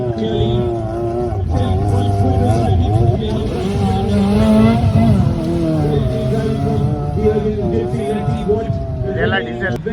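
Four-wheel-drive race car powering through a muddy track at a mud racing event in Mysore, engine roaring and revving steadily close by, with a commentator talking continuously over it.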